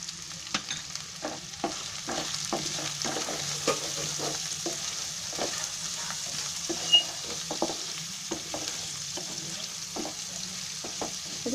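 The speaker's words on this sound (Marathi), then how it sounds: "आता त्याच्यामध्ये मी कांदा टाकते, म्हणजे कांदा चांगला फ्राय व्हायला पाहिजे ना म्हणून." Chopped onion fries in a pan for matar pulao, a soft steady sizzle broken by regular scraping strokes of a spatula stirring, close and moderately quiet.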